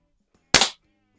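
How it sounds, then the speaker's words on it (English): A 1970 Western Auto Revelation BB/pellet gun, a Crosman 760, fires one sharp, loud, close crack at a splatterburst target, followed by quiet with no talk. "So I'm going to go back to the splatterburst for a couple shots and see if we can."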